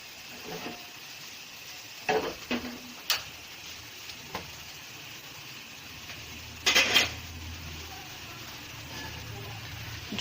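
Hot tempering (baghar) is poured into a pot of beef haleem, giving a low steady sizzle with a few sharp clinks and short bursts of crackling over quiet background noise.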